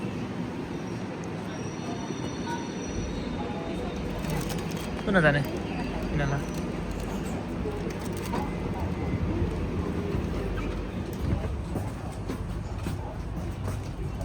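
A suburban train in Melbourne pulls into a station platform heading toward Flinders Street, a steady rolling rumble with a brief sharp wheel squeal midway, while people speak quietly nearby.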